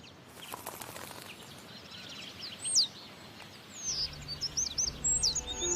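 Bird calls ring out in a forest where black woodpeckers live: a series of sharp, high chirps and whistles, some close and some farther off, over a faint airy background, growing busier toward the end.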